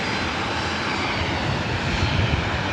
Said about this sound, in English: we have another Speedbird 777-300ER heading up here for a north side takeoff